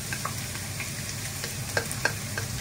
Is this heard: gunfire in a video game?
no